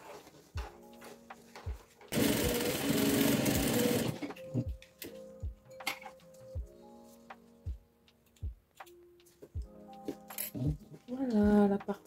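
A sewing machine stitches a child's backpack in one loud burst of about two seconds, surrounded by quiet clicks, handling knocks and someone talking.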